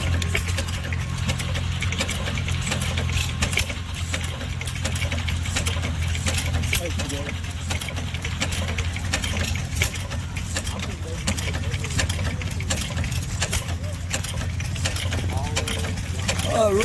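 An old coal-country gas engine from Kentucky, fitted with a pendulum governor, runs steadily at a tractor show. It makes a continuous low mechanical chug with rhythmic clicking, and voices talk nearby.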